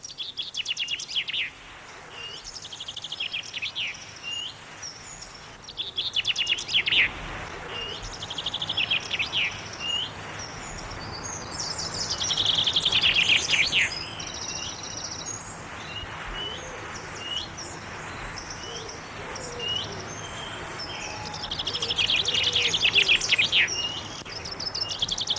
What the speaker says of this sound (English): there was a chaffinch singing